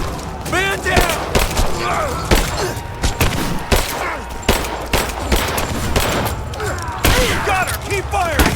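Gunfire in the game Rise of the Tomb Raider: a close, sustained firefight of rapid automatic bursts and heavy thumps, with shouting voices mixed in throughout the loud exchange.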